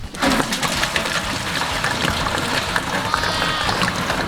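A loud rushing, splashing stream of water runs continuously, poured close by into a car radiator used as a pot for boat noodles.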